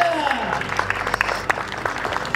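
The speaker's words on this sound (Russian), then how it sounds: "Давайте прямо сейчас поприветствуем друг друга мощными, теплыми, летними футбольными овациями." A crowd at a football club summer picnic gives warm applause, a dense run of clapping with a few sharper claps standing out. A voice is faintly mixed in at the start.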